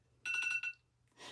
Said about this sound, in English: And then we have the alarm.